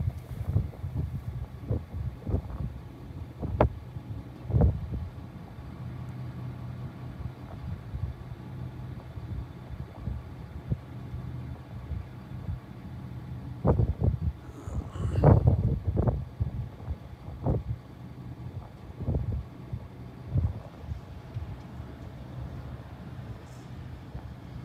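Strong wind outdoors on an Oklahoma farm while hay is being hauled, gusting and buffeting against the microphone with low rumbles and thumps throughout.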